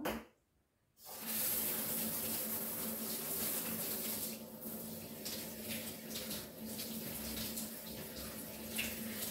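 Steady running water pours from a tap during hair washing, loud and continuous after a brief silent moment at the start.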